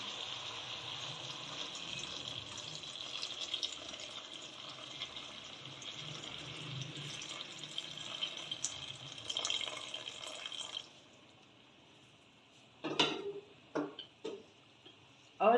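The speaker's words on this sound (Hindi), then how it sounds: "अब हम इसमें डालेंगे अपनी यखनी के हिसाब से पानी।" Water pours steadily into a cooking pot of mixed vegetable soup for several seconds, then stops, followed by a few clinks and small splashes nearby.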